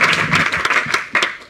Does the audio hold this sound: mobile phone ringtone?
no